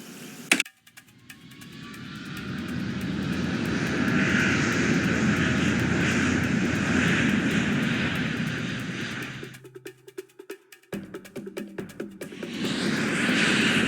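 Float-plane engine in Nancy Drew: The Ransom of the Seven Ships, starting with a click, swelling into a loud sustained propeller drone, then cutting out briefly before resuming.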